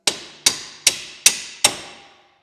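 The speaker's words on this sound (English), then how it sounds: "So I'm gonna give that a tappy." Five sharp metallic hammer strikes on a Subaru STI hatchback part while installing coilovers, at a steady, even pace, each ringing briefly before the next; close and loud with no talking.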